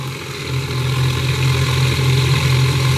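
A BTG coil generator spins steadily at about 2,600 RPM, giving off a continuous low hum with a faint bearing whine and rattle over it, loud and unbroken the whole time.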